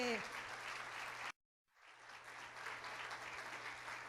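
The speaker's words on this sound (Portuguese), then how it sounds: "eu quero pedir uma salva de palmas" Audience applause at a conference panel, broad clapping that cuts off into a brief silence, then resumes and builds again; a faint voice is heard at the very start.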